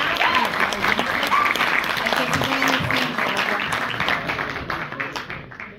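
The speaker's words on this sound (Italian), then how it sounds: "vi chiedo di fare un applauso ai ragazzi che si sono impegnati" An audience in a simulated European Parliament session on Europe Day gives students a sustained round of loud applause. The dense clapping holds steady, then thins slightly toward the end, with some voices mixed in.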